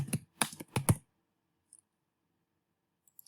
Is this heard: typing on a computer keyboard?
yes